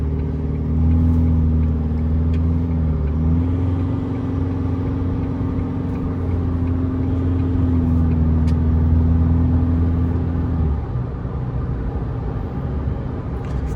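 A car with a transmission cooler fitted accelerates toward a 100 km/h zone, a steady loud engine drone with a gear change partway through, heard from inside the cabin with no talking.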